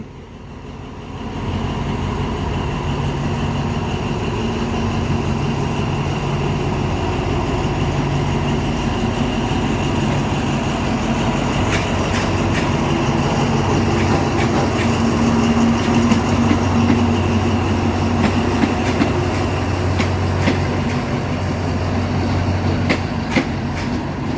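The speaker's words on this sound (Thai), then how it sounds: "มาชมรถ นะขบวนรถชานเมืองที่ 341 กรุงเทพชุมทางแก่งคอยนะครับ ซึ่งวันนี้ก็ได้รถจากอันสตอม CC19 ทำขบวน" Suburban train 341 from Bangkok to Kaeng Khoi Junction, hauled by an Alstom CC19 diesel locomotive, passes close by with a steady loud rumble and engine drone, rising in clatter and wheel clicks as the cars roll past.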